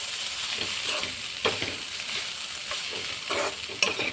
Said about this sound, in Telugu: ఇప్పుడు అన్నిటిని మొత్తం కలుపుకుందాం